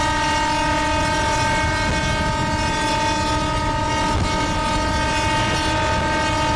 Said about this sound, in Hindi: और हॉर्न बजाना तो बनता ही है